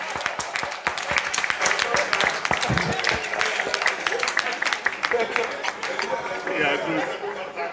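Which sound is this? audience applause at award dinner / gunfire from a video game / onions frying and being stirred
audience applause at award dinner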